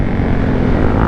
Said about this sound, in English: My exhaust, the muffler fell off today. Yeah, I see it has no muffler.